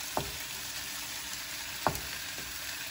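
Pork slices topped with provolone cheese cook in a pan, giving a steady soft sizzle broken by a couple of faint scraping ticks, with no talking.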